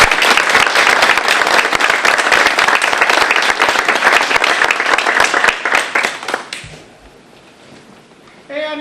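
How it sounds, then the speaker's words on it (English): An audience at a historical society Christmas social meeting claps for a retiring board member, loud close sharp applause that thins out and stops after about seven seconds, leaving quiet room noise. "Let's give him a round of applause."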